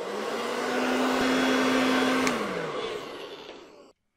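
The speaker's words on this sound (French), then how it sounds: "je vais la sécher au sèche-cheveux" A hair dryer blows steadily on natural afro hair set on a practice mannequin head, a loud broadband whoosh with a steady motor hum that slides down in pitch before cutting off abruptly.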